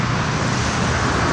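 Traffic rushes along a four-lane road near the Rivière des Galets bridge and Étang Saint-Paul on Réunion, a steady, close, loud roar of passing vehicles with no voices.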